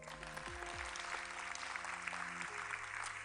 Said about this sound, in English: Another round of applause for Chloe.